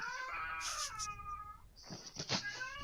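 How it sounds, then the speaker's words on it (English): A pet cat meows several times, drawn-out tonal cries with rising and falling pitch, fairly close and alone with no talking over them. "That was my cat."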